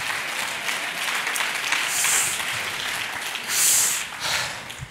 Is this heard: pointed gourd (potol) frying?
no